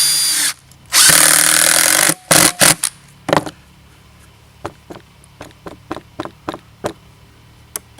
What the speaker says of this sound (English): I'm going to throw a couple screws in there.